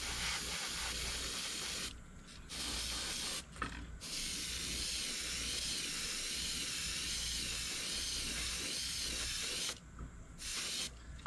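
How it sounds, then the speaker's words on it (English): An airbrush sprays steadily with a loud continuous hiss, spitting and cutting out briefly several times as its paint runs low. "When you hear it spit like that, I don't know if you heard that or not, that means that the paint's getting a little low"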